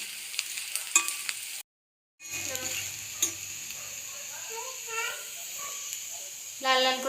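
Onion, garlic and ginger sizzle in a frying pan while being stirred for aloo paratha. The steady frying crackle is broken by a brief dropout of silence, and later stirring scrapes are heard.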